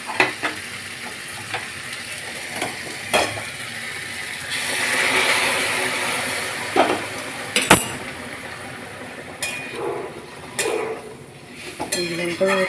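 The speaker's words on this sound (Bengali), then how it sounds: "এবার গরম জল দিয়ে দেবো।" Hot water poured into sautéed spice masala for a fish curry, a steady sizzle in a pan with a spoon stirring and clinking against the metal, and brief talk in between.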